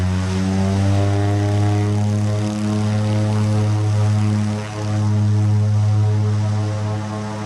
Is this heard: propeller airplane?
yes